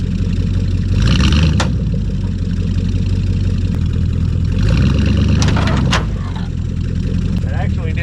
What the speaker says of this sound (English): I'm just going to go ahead and back the truck up to it, hook it up, we'll give it a light tug